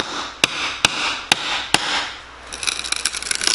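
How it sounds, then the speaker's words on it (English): Hammer striking wood pieces to knock them loose from around a window frame during window installation: four sharp, evenly spaced close blows, then a scrape and a cluster of lighter rattling taps, with no talking. "I'll try to break that thing loose a little bit and take these pieces of wood out piece by piece."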